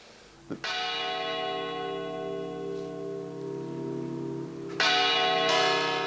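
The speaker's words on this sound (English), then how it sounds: "bells tolled across Madrid for 5 minutes to mark the moment the first bomb went off." Church bells across Madrid toll in long, resonant strokes, each hum lingering until the next strike, steady and sustained.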